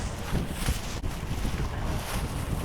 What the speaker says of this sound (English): this wind is whipping